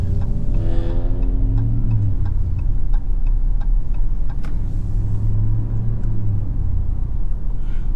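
2023 RAM TRX pickup truck cruising through the city at night, a steady low rumble from inside the cab with a soft, regular ticking like a turn signal running through most of it.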